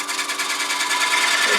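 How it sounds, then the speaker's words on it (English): A detail gouge cutting wood on a lathe as a table lamp is turned, a continuous buzzing scrape with a fast, even pulse, close and moderately loud. "Use a detail gouge to round this over."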